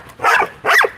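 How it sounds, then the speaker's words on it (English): A black dog gives two quick, loud close barks in rapid succession, sharp and separated by a brief gap. "This black dog right here."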